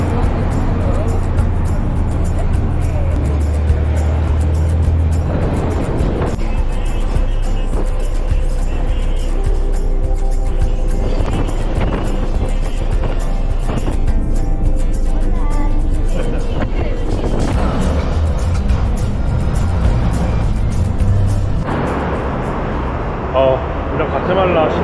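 Traffic rumbles steadily at a noisy city bus terminal in Guatemala, with engines idling and vehicles passing close by. Someone talks over the constant din throughout.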